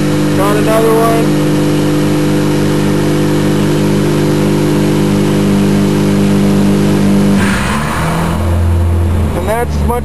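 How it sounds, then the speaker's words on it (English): A small-turbo car engine on a chassis dyno holds a loud, sustained high rev that climbs and then drops off abruptly, with someone speaking over the tail end. "And that's as much as that little turbo gave us on that round."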